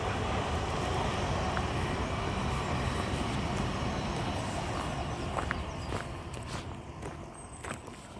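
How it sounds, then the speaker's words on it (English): A train rolls past near Aberthaw Road in Newport, a steady broad rumble with a clattering rhythm of wheels over rail joints, loud and close, then easing slightly as it moves on. "And another train coming by."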